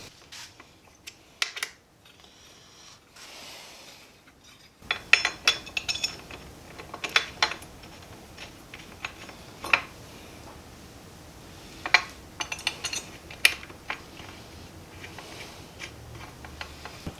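Metal Surron footpeg and kickstand hardware clinks and ticks while being pulled off, with quiet scattered taps at first, then louder irregular knocks and rattles of parts being handled close by, with no voices.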